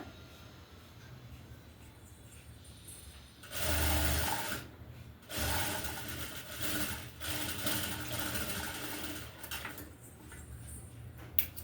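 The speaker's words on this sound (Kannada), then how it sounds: "ಫ್ರಂಟು ಮತ್ತು ಬ್ಯಾಕನ್ನು ನೀಟಾಗಿ ಇಟ್ಕೊಂಡು ಒಂದೇ ಸಮ ಇಟ್ಕೊಂಡು ಹೊಲಿಗೆಯನ್ನು ಹಾಕ್ಕೊಳ್ಳೋಣ" Sewing machine running in bursts while stitching the side seams of a blouse, front and back pieces held together; a steady mechanical whir comes in several runs of a few seconds with short pauses, close and alone.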